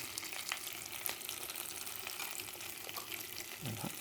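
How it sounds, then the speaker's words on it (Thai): Panang curry chili paste stir-fried in a hot pan, a continuous dense sizzle with scraping stirs and occasional louder crackles, fairly quiet overall. "เราก็ผัดผัดผัดให้น้ำให้น้ำพริกมันหอมเนี่ย"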